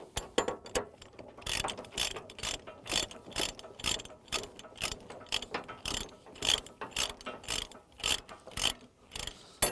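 A ratchet chain binder is cranked tight on a trailer securing a mini excavator, producing rhythmic metallic clicking bursts in repeated strokes, close and fairly quiet, with no talking.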